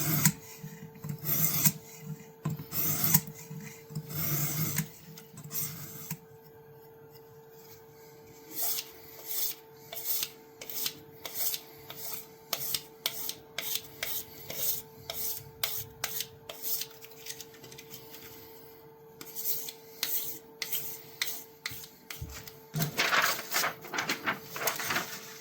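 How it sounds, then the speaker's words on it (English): A knife blade is scraped to clean it, starting with a rough pass over a curled edge. Repeated rasping strokes come in quick rhythmic bursts at close range, quiet and with no voices. "that first scrape will be rough because of the curl"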